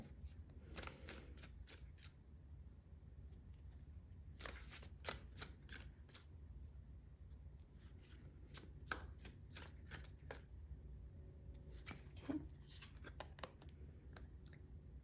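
Tarot cards being shuffled by hand, a faint, close series of crisp riffling and snapping bursts repeating irregularly over a soft background hum, with no talking.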